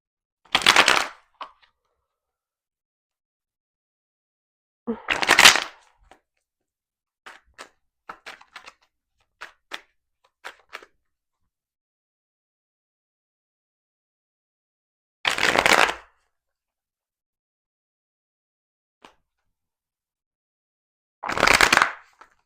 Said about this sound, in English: and then we're going to pull some cards and see what is reflected to us through the tarot.